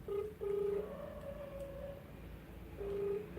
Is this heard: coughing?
no